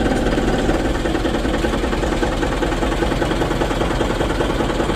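A Po Langgeng intercity bus on the mountain route between Sagaranten and Sukabumi idles steadily, its engine giving a continuous close, loud rumble with a faint knocking texture throughout.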